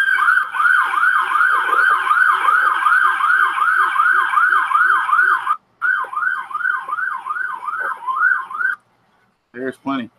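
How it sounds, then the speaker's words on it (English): A loud emergency-vehicle siren wails in a fast, regular up-and-down cycle close by, cuts out abruptly, resumes for a few seconds, then stops, with a short chirp at the very end. "Nothing like a Christmas siren to get the Christmas spirit going."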